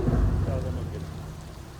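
Steady rain pours down during a cycle trip through rural Tasmania, a dense broadband wash with low rumbling at the start, continuous and fairly loud throughout, with no voices.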